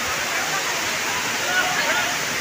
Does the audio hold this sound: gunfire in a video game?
no